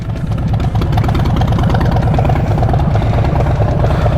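A car engine with a leaking upper radiator hose and Y-pipe connector runs steadily and loudly nearby, a rough, even idle with a faint knocking pulse and constant vibration, no voices.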